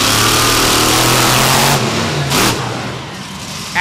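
A monster truck engine revs hard during a freestyle run at an arena show in Huntsville, Alabama, a loud, close, sustained roar that rises and then drops off partway through, with no voices over it.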